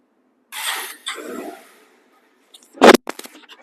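A 2021 Bajaj Pulsar One Disk motorcycle, a second-hand bike, gives a couple of short churning bursts. After a brief pause, one sharp loud burst follows as the engine catches, with no talking.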